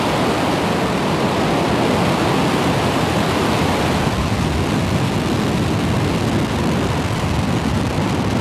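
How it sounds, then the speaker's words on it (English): A SpaceX Falcon 9 rocket lifts off on the Polaris mission with a continuous, dense, broadband roar that stays loud and unbroken throughout, like rushing wind or a waterfall heard from a distance. "Ignition. And liftoff of Falcon"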